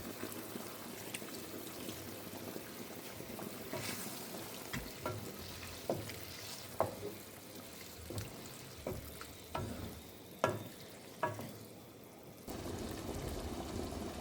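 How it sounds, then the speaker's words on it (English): Filipino sweet and sour sauce with pineapple chunks thickening in a pan after a cornstarch slurry goes in: quiet bubbling sizzle with a series of soft scraping stirs, then a brief lull before the simmer returns. "Now we'll add the cornstarch slurry to thicken the sauce."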